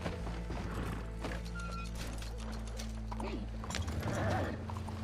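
Horse hooves clip-clop in the Red Dead Online video game, a steady rhythmic patter over a continuous low mechanical hum and game ambience, with a faint tonal blip partway through.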